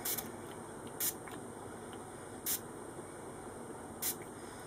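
Spray mist bottle pumped by pressing the plunger, giving four short, sharp hissing puffs at roughly regular intervals against a quiet background hiss.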